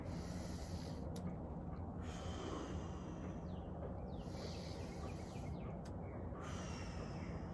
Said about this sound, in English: So it's big deep breath in through your nose.